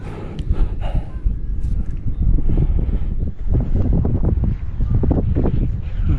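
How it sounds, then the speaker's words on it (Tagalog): Strong wind buffeting a microphone aboard a wooden motherboat on open water, a loud, continuous low roar with gusty swells and faint rustling throughout. "Lakas ang hangin mga kabisig."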